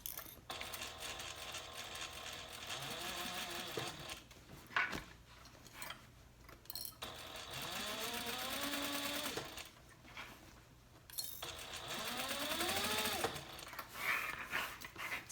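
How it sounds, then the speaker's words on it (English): A sewing machine sews straight across a handbag lining in three separate runs, each starting with a rising motor whine and quick needle clatter, separated by short quiet pauses and small clicks. "So we're just sewing straight across, nothing very exciting."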